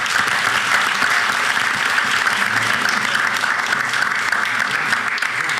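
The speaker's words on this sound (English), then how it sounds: "Let's give another round of applause as we move on." University board meeting audience gives a steady, dense round of applause filling the room, even and continuous from start to finish with no speech over it.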